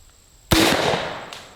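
A golf ball cannon, a can cannon with its golf ball attachment, fires once with a sharp, loud bang that rings out and decays over about a second, followed by a faint secondary click.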